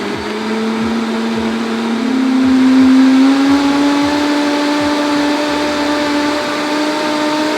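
A powerful Vitamix blender motor whirs loudly and continuously, its pitch rising slightly midway and holding, with rhythmic churning beneath.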